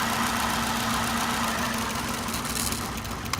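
A car engine idling during a cylinder power balance test, a steady low rumbling hum with a faint knocking pulse that barely changes, close and alone.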